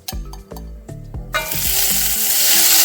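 Soaked, washed banana stem pieces drop into hot oil tempering, a few soft thuds followed by a loud, steady frying sizzle that swells and continues to the end.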